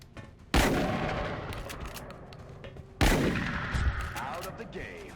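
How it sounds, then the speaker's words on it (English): Two loud point-blank gunshots from a soldier in XCOM: Enemy Within, a couple of seconds apart, each a sharp blast followed by a decaying rumble over a low bed of game ambience. "then fire twice at point-blank range for 2 guaranteed hits"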